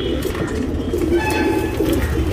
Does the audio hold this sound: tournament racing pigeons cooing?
yes